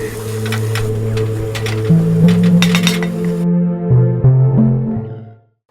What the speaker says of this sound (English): I'm just about done stirring